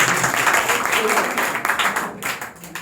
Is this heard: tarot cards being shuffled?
no